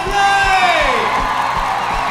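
A concert audience whoops and cheers for a band at a Berlin music event, bright shouts and whistles over a steady thumping beat, with a voice rising briefly above them.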